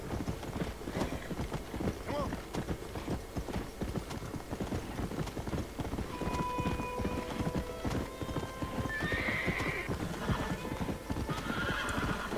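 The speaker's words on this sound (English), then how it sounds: "This goddamn horse now has no fucking 500 horsepower like a fucking Dale Earnhardt Jr.'s car." Horse hooves clip-clop steadily and rhythmically in the Red Dead Redemption western video game, up close and continuous, with a horse whinnying partway through and faint voices in the background.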